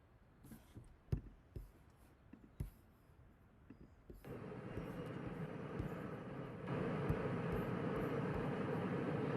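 An airplane in flight drones faintly and steadily, the cabin rumble stepping up louder twice with a few soft clicks and knocks early on.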